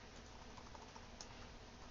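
Steady typing on a computer keyboard, a continuous close patter of quick key presses running through the whole stretch with no voice over it.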